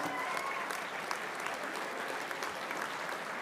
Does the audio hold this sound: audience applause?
yes